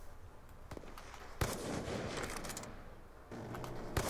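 Gunfire in the Black Ops 2 video game, a DSR sniper rifle match, with sharp shots and a dense crackling burst around the middle, followed by another loud shot near the end, heard fairly close with no talking.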